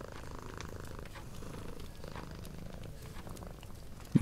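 A cat purrs softly and steadily up close, a low, even rumble with a regular rhythm that continues throughout at quiet volume, followed by a brief thump at the very end.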